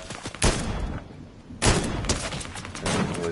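Bursts of gunfire in the Fortnite video game, two sharp loud volleys with rapid trailing shots between them, fairly close and without talk.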